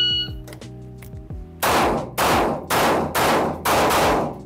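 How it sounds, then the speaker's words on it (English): Glock 43X pistol fired strong-hand only on a shooting range, five sharp, loud shots in fairly even rhythm, each with a short ringing tail, following some quieter clicks and clacks of handling. "we'll do strong hand shooting with the Glock 43X"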